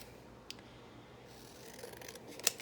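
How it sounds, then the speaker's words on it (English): Paper letters being cut out with scissors, heard as faint, sparse snips, with one sharp click early on and a brighter snip near the end over a quiet background. "Let me just cut my letters out."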